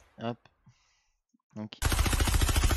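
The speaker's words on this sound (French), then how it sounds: "Donc c'est la nouvelle arme, voilà comment elle tire" Newly added weapon in Fortnite fires in a loud rapid automatic burst lasting about a second, preceded by brief quiet speech from a voice.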